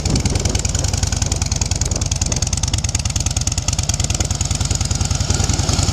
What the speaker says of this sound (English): 96 cubic inch motor, counterbalanced